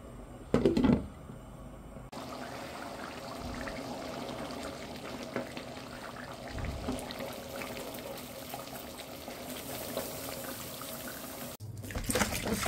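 A kitchen tap runs while dishes are washed, giving a soft, continuous stream of flowing water with a brief louder splash at the start and again at the end.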